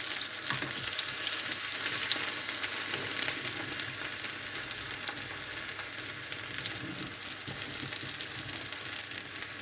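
Tomatoes, a frozen hash brown and other breakfast items frying in a single pan over turned-down heat, a steady dense sizzle running loud and unbroken throughout with no voices.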